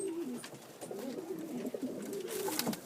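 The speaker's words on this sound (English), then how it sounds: "Birmingham roller pigeons." Birmingham roller pigeons coo in a loft, low throaty rolling calls overlapping one another at close range, with soft rustling and fluttering mixed in and no talking.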